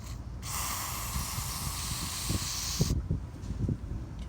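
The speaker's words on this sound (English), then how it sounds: "Spray it on that sensor." A close aerosol cleaner can lets out one steady hiss for about two and a half seconds onto the mass air flow sensor of a 2004 Lincoln Town Car, then stops, with light handling thumps around it.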